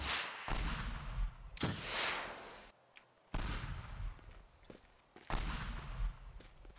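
Rocket launcher blasts against a yacht in the destruction game Teardown, with several loud, close explosive bursts and crumbling debris between them, separated by brief lulls.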